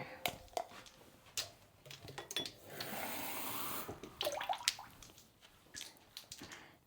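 Water poured into a mixing bowl while making cookie dough, an uneven trickle with a steadier stream in the middle, close by, among clinks and light handling noises.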